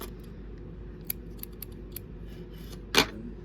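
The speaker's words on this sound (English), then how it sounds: "And you can cut your yellow yarn long." Scissors snip through yellow crochet yarn, leaving a long tail after the last stitch of a crocheted coaster. Soft handling noises come first, then one sharp, close cut near the end.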